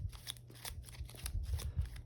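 A deck of game cards from a GI Joe deck-building board game is shuffled by hand, a quick run of soft papery riffles and flicks at close range, with no talk.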